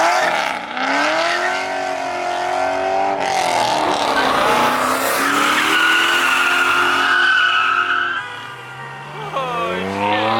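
A Chevrolet Corvette C6 revs hard at a car show while its tires squeal continuously, the engine note rising and falling through loud throttle blips and long, screeching burnout skids close by.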